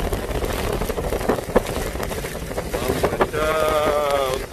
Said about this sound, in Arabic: يا سلام على اجواء ريح اسميها فيها العواصف. هاي رياح شهر 7.